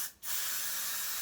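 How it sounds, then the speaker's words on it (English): Hairspray sprayed onto braided hair, one brief pause then a long steady close hiss from the aerosol can lasting about a second, no talk. "I'm going to spray a little bit of hairspray on that part"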